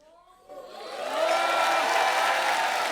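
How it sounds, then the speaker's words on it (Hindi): Studio audience applause and cheering for a guest on a Hindi comedy talk show, starting quietly and swelling into sustained loud clapping with scattered whoops. "एक बार साजिद भाई के लिए जोरदार तालियां हो जाए"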